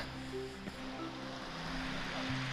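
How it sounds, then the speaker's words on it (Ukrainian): A mountain river in the Carpathians near Bukovel, fed by small streams, rushes with a steady, loud, broadband roar that holds evenly throughout, with no voices. "маленькі ручійочки перетікають велику річку"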